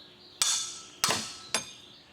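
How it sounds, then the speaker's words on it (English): Three sharp metallic hammer blows, about half a second apart, strike a fan to loosen it from an engine's water pump pulley in a workshop, each ringing briefly and decaying before the next. "I'm going to strike this with my hammer."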